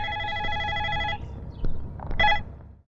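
A telephone rings with a steady electronic tone, then breaks off into brief clicks and a short burst of noise as it's picked up.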